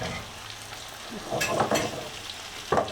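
Giant freshwater prawns fry in a pan for shrimp dopiaza. A continuous close sizzle is broken by a few louder bursts of spatter and stirring.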